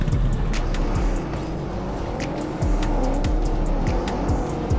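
Cars racing in PUBG Mobile, engines revving and whining past one after another with repeated swooping pitch sweeps and tire squeals, loud and close, with no talking.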